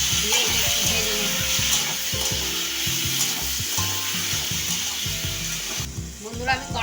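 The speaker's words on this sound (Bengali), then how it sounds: "এরপর আমি একটুখানি জল দিলাম, দিয়ে একটু ভেজে নেব।" Ridge gourd frying in a pan with coriander powder and turmeric after a splash of water, a steady close sizzle with stirring scrapes and soft knocks throughout, a louder spattering burst near the end.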